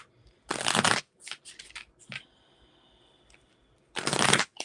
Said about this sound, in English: I'm also going to shuffle from my love deck as well